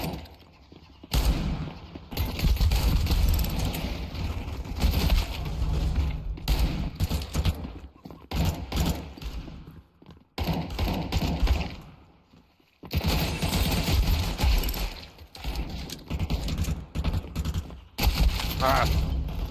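Gunfire in the video game Counter-Strike 2: repeated bursts of loud, close shots in irregular clusters separated by short pauses, with mechanical clicks and thuds between volleys.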